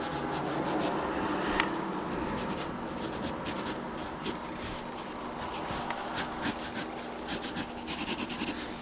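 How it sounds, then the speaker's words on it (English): Pencil sketching a jacket on paper: continuous close, dry scratching strokes with short lifts and quicker dabs toward the end. "we're sketching out a jacket right now"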